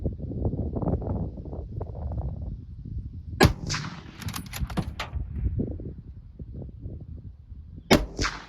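A Remington 1917 rifle in 30-06 fires during sighting-in for deer season, two sharp, loud cracks several seconds apart, amid handling and clattering noises nearby.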